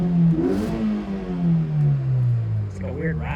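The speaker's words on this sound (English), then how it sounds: "The car sounded like it had a lot of induction noise and howl" A Mazda NC Miata engine revs with heavy induction howl and a rattle from the airbox: a loud, steady, close engine tone that drifts slowly downward in pitch, with light clatter on top.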